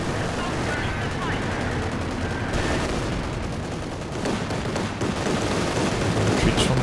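Rapid gunfire and artillery crash through a busy Company of Heroes 2 battle, a dense and steady rattle of shots and booms under a commentator's voice.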